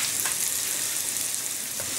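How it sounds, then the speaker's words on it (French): Onions sizzle steadily in a hot pan, a dense bright crackle of frying that holds level throughout with a couple of faint stirring clicks and no talking. "je vais faire revenir les oignons jusqu'à ce qu'ils soient translucides"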